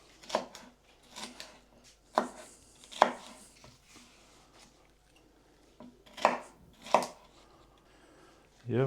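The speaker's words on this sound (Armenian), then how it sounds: "հարկավոր է բիբարները կտրատել" A knife cuts peppers on a board for a lamb khashlama, a few sharp, separate knocks with long gaps between them, close and fairly quiet, with faint background sounds in between.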